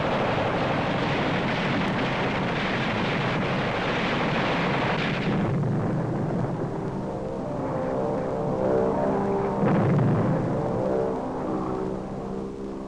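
Heavy anti-aircraft fire and explosions during the 1944 D-Day paratrooper drop over France, a dense roaring wash of blasts and rumble that stays loud throughout, with a deeper booming swell around the middle and a harsh tonal layer later.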